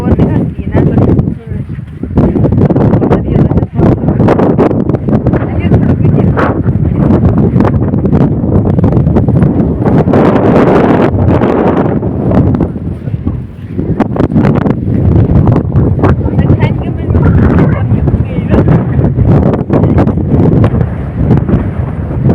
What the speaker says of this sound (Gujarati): દરિયે ઠંડો ઠંડો પવન લેતા આવીએ